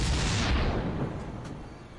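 A Protoss pylon is destroyed in a StarCraft match, a loud explosive burst at the start that decays into a rumbling fade over about two seconds.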